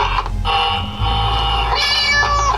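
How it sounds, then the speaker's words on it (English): A cat meows loudly and close at hand in a house at night, giving a couple of drawn-out, wavering cries over a low background hum. "The cat."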